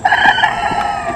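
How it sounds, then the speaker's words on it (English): A French Black Copper Marans rooster recovering from a throat cold gives a short, strained, weak crow, a single hoarse harmonic call heard close and fairly loud. "That French Black Album Ram rooster is struggling to crow."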